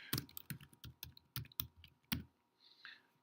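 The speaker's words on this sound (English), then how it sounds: "Don't you hate typing when people are watching you?" Keys clatter on a computer keyboard in a short burst of uneven taps, close and clear in a quiet room, with a soft rustle at the end.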